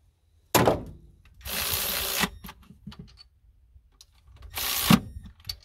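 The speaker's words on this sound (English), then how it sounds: "Get them tightened up to the proper torque, which is when this wrench stops turning." A power wrench tightens spark plugs on a 351W V8 in a 1981 Ford F100, with three separate loud whirring bursts broken up by small clicks and handling noises and no talking.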